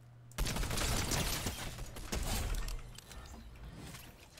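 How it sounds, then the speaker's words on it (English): Loud, dense burst of rapid gunfire in the video game Fortnite, crackling continuously for several seconds and tapering off, with no talk over it. "somebody's shooting me"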